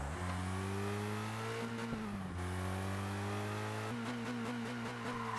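A race car engine from ToCA Race Driver 2 drones loud and steady, with its pitch dropping sharply twice as the driver downshifts. Each gear change is followed by the revs climbing again. No voices are heard.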